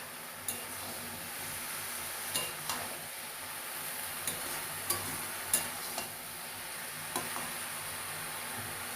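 Banana flower and chopped tomato frying quietly in a pan, a faint steady sizzle broken by a few soft ticks and clicks of a spatula, fairly distant and low in level.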